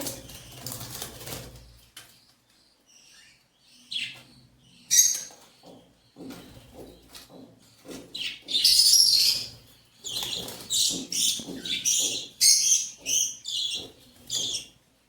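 Young birds chirp in quick bursts with soft fluttering, the calls growing busier and louder toward the end, close by.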